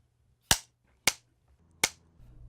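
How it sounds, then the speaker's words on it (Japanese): Three sharp wooden snaps of a film clapperboard ring out alone at roughly half-second intervals, crisp and close, each followed by a brief decay, with faint room noise after. "ここで録音された音は編集の時にカチンコの音とともに同期させるんだ。"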